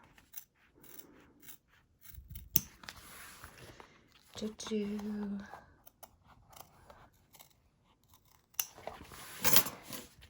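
Quiet, close scissor snips cut through fabric held in an embroidery hoop in short bursts, with soft handling noises and murmured speech around them.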